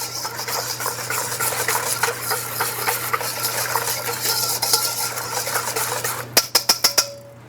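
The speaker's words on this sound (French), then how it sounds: "je vais mélanger tout de suite, de façon à préparer mes œufs à une cuisson" A whisk beats eggs and hot milk in a bowl for pastry cream, a steady brisk scraping swirl that ends in a quick series of sharp taps against the rim.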